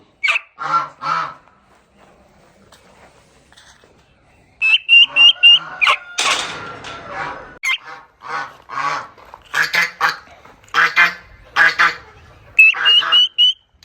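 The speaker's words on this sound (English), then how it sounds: "I made the big gray goose a little angry." A big gray goose, angered after being disturbed on a farm, honks loudly and repeatedly in close bursts, with harsh squawking calls; other fowl may be mixed in, and the bursts come in uneven clusters with brief pauses.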